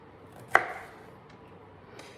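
A single sharp knife chop through a jalapeño pepper on a cutting board as it is cut into dippable spears, one crisp nearby cut followed by quiet.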